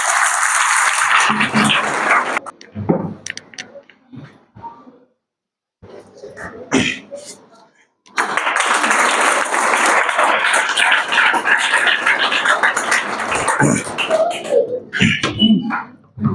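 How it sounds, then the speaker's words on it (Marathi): Bursts of crowd applause, dense clapping that swells, breaks off into a quiet gap, then returns loud and sustained for several seconds. "जोरदार सर्वांनी टाळ्या चालू ठेवायच्या"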